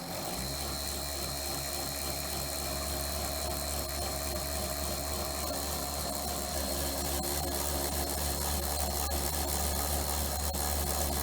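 A Williams O gauge brass scale Hudson model locomotive, in need of restoration, runs its motor steadily on a test hookup, giving a continuous low electric hum and whir with a faint mechanical buzz, close and even throughout.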